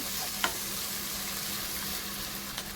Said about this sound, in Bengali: মশলাটা এদিকে কষতে থাকুক